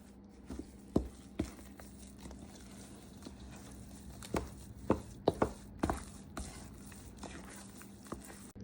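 Thick tamale masa being worked with a spoon in a bowl after hot lard is added, giving soft scraping and irregular knocking taps scattered through a quiet, close-up scene with no talk.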